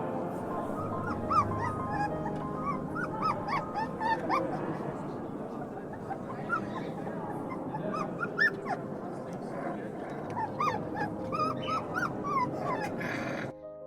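A dog whimpers and yips with high, wavering cries, joined by a few short barks, while people talk faintly in the background as it reunites with its owner home from travelling in Europe.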